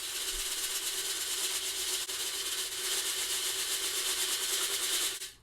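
Dry corn cob granules being stirred together with fragrance oil, a continuous close gritty rustling and scraping, fairly steady throughout before stopping at the end.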